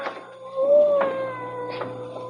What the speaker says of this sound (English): I hear a cat. He must be right in this room, but I don't see him.